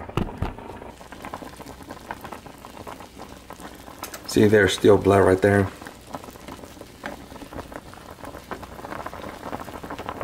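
Water with chicken in it bubbles and boils steadily in a pot, with someone briefly speaking over it midway.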